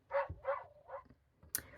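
Recorded dog barks play from a children's farm animal sound book: two quick barks, a softer third and a faint yip, close and clear with no talking.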